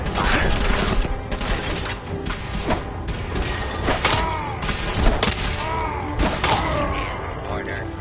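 Rapid bursts of gunfire with shattering impacts and mechanical clatter in the video game Fallout 4, dense and loud throughout, with voices mixed in among the shots.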